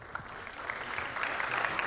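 Audience applause welcoming a keynote speaker at a conference, a brief swell of scattered clapping that grows slightly louder over two seconds with no voices on top.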